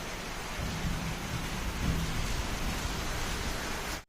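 Steady, dense rain pours down close by in a constant heavy wash, with a low rumble underneath and no voices, until it cuts off abruptly at the end.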